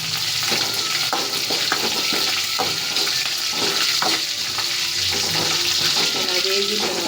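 Dried red chillies fry in hot oil with a busy, close sizzle and scattered pops and clinks as they are stirred, continuing steadily throughout.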